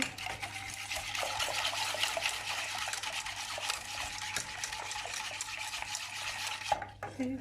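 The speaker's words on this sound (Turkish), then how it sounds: "Bütün malzemelerimi karıştırıyorum." Cake cream ingredients with starch stirred in a pot: continuous scraping and swishing of a utensil against the pot, moderately quiet, ending with a brief clatter.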